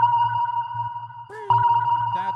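A sonar ping rings out over the arena during the endgame period of a FIRST Robotics district match, a clear electronic tone sounding against steady hum and shifting pitched machine noises, loud and close.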